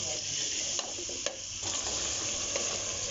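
Cut potato pieces, about half a kilo, stirred and fried in a spiced masala with whole green chillies for aloo palak, giving a steady close sizzle with a few scraping spoon knocks and no talk.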